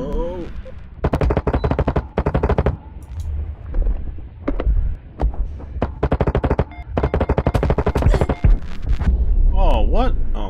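Automatic gunfire from a weapon in a shooter video game rattles out in loud, rapid bursts separated by short pauses, with a player's voice near the end.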